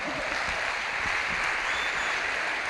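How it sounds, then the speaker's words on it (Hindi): Audience applauds loudly and continuously as a speaker comes onto the stage at an event, a dense, even wash of clapping with no pauses and no talk. "जोर से ताली बजाना, विनीता ऑन द स्टेज।"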